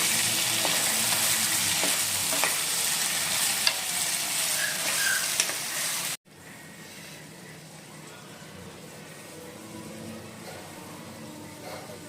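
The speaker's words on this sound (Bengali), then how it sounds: "আর এখন এটা ভালো করে ভেজে নিব" Potatoes and eggplant fry in hot oil in a pan, a dense continuous sizzle with stirring scrapes, loud at first then dropping to a quieter hiss after a brief cut midway.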